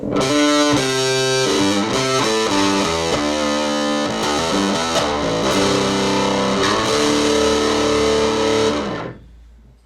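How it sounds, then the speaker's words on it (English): Electric guitar through a Human Gear Animato distortion pedal at full distortion plays a loud, gritty riff of chords and notes, then cuts off and rings out. "here's your distortion sound now."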